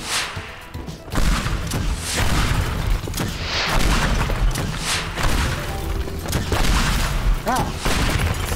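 Rocket launcher fire and explosions in the Teardown video game, part of a mission with military-grade weapons: loud, continuous booming blasts and crashing debris from start to finish, with sharp impacts scattered throughout.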